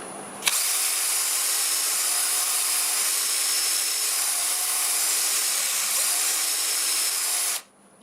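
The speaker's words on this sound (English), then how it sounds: "I'm going to start this with 120 grit. I have the lathe running forward this time" Wood lathe spinning forward while a piece is sanded with 120-grit paper, a sudden start of loud steady whirring and abrasive hiss that runs evenly for about seven seconds, then cuts off abruptly.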